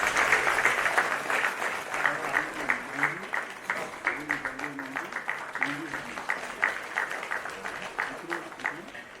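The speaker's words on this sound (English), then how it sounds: "Can we have a huge round of applause for the winners?" An audience at a national conference applauds award winners with loud, sustained, dense clapping that rises and falls in waves without stopping.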